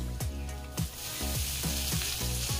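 Fried long beans go into a sizzling spice masala, a loud, dense hiss of frying with repeated rhythmic scrapes of a spatula against the pan.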